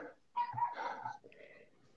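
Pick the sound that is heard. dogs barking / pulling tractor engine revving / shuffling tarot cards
dogs barking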